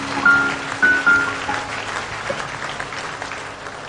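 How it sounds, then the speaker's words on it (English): Church congregation clapping hands for Jesus, a full roomy applause from many people that stays steady, with a few whistles near the start. "Clap your hands for Jesus."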